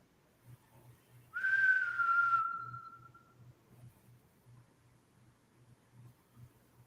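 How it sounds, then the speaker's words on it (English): A single long whistled tone, sliding slightly downward and fading, over a faint rhythmic low thumping in a quiet room. "I just heard whistling."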